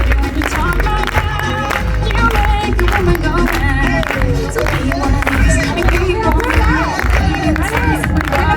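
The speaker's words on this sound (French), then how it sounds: "Je vous prie un tonnerre d'applaudissements pour Maria Elena et Lorenzo." A crowd applauds and cheers at a company kick-off event in Aix-en-Provence. The dense, loud clapping runs continuously under babbling voices and other busy room sound.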